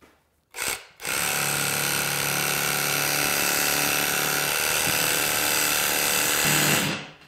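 A power tool fitted with a modified wire brush scrubs rust off the jaws of a bench vise, starting with a short burst, then a loud, steady whirring grind held for about six seconds before stopping, close to the microphone.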